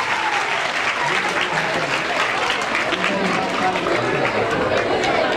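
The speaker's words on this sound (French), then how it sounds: "ça mérite des applaudissements" An audience at a book dedication ceremony breaks into dense, loud applause, a continuous roar of clapping with some crowd chatter mixed in throughout.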